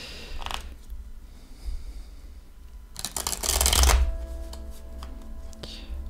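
Tarot cards are shuffled close up in two rustling, riffling bursts: a short one near the start and a louder, longer flurry a few seconds later, with quiet room noise between.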